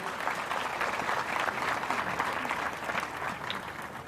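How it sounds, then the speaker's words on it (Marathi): Audience applause at a motivational talk, a dense, even patter of many hands clapping together, steady and fairly close, with no talk over it. "आपण सगळेजण आपल्या या शिवम प्रतिष्ठानसाठी एकदा टाळ्या वाजवून त्यांना अभिनंदन करूया."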